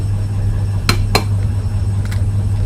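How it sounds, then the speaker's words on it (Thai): An egg is cracked on a hard rim for rice porridge, two sharp close taps followed by a fainter third click against a low steady hum. "เดี๋ยวเรามาตอกไข่กันนะคะ ว่าไข่เนี่ย เหมาะสำหรับทำโจ๊กหรือยังนะคะตอกไข่มาเลยค่ะ"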